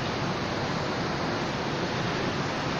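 Sea waves wash in a steady, dense roar of broadband noise that stays loud and unbroken throughout, with no voices.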